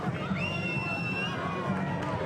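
An excited crowd in Doral cheers and dances, a dense continuous hubbub of voices and shouts with a rising whistle or yell rising above the noise.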